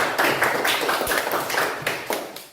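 A classroom of students claps hands together in a short, uneven burst, several sharp slaps close by with rhythmic pulses over about two seconds, then trailing off.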